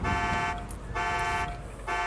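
A car alarm blares in GTA V, a steady pulsing electronic tone that cycles on and off in loud repeated bursts with no talk over it.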